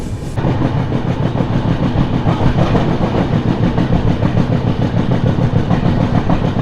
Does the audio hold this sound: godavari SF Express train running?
yes